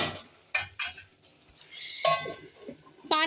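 A lid is set over a cooking pan holding fried eggplant with a little added water. Several distinct metallic clanks and knocks ring out between quieter gaps, with no talking.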